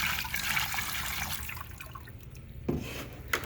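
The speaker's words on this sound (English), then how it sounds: "I'm going to add some water." Water pours into a pugmill being loaded with very dry clay, a steady rushing splash that fills the first half, then eases off, followed by a couple of sharp knocks.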